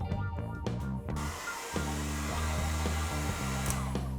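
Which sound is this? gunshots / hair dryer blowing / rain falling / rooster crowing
hair dryer blowing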